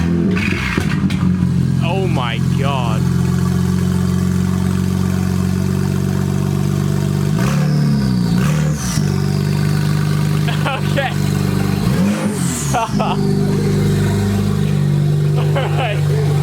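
A loud BMW N54 engine idles with a deep, rumbling race exhaust and rises in a few short revs, while people talk over it up close.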